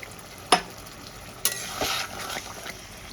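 Potato and eggplant curry sizzling in a pan just after a splash of water goes in, with sharp bursts of hissing and soft stirring scrapes over a steady low frying crackle.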